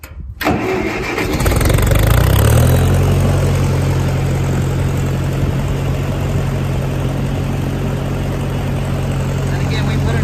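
A 1956 Massey Ferguson MH50 tractor engine chugs along at a steady idle, a low rumbling throb that holds loud and even throughout.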